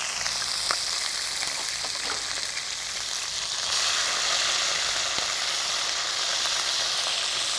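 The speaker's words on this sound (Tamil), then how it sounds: "இது போட்டு நல்லா பொரியணும்" Mint and coriander leaves frying directly in hot oil give off a dense, continuous sizzling hiss close by, with a few faint ticks of a utensil and no voices.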